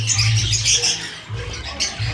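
Emerald cockatiels in a breeding setup make close, repeated chirps and squawky calls over a low ambient hum, with no voices present.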